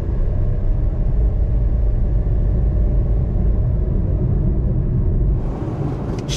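A Nissan NV150 AD van with a 1.5-litre engine heard from inside while driving gives a steady, loud low rumble of engine and road noise that eases slightly at the very end.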